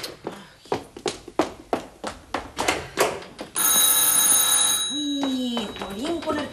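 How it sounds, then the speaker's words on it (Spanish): An old telephone bell rings in a row of sharp, evenly spaced rings, then gives way to a sustained tone and gliding voices, close and loud in a staged comedy play. "Ay, jolín, con el teléfono."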